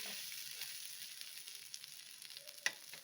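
Coco bread toast frying in cocoa butter with milk poured over, giving a soft, steady sizzle with a few small pops, faint and continuous, no talk.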